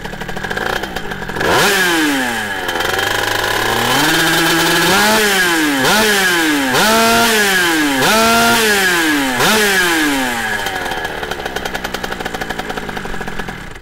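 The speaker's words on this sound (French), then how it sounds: "Le MXS GP90 qui fait un bruit monstre." A 50cc MXS GP90 motorcycle engine, tuned and prepared, revs loudly and close up in repeated rising and falling bursts, shrieking between throttle blips with a buzzy two-stroke whine and no talk.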